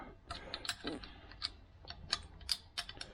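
A nut being wound down a bolt on the front suspension of a Land Rover Series IIa, heard as quiet, close, irregular metallic clicks and ratcheting ticks at a low level.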